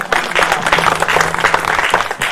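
A church congregation claps together at a prophetic healing service, a dense, loud, steady burst of many hands that lasts a couple of seconds.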